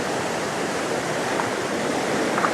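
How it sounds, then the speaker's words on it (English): Spring meltwater rushes beneath a bridge in backcountry grizzly territory, a steady, close, full roar of flowing water with no voices. "Let's take this bridge, see how the water's flowing."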